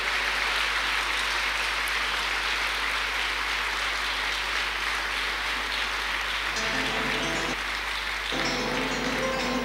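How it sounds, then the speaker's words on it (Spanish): A congregation at a church convention applauds in a continuous, dense wash of clapping under a steady low hum, with faint background tones near the end. "Dele un aplauso a la traducción de las palabras de Dios"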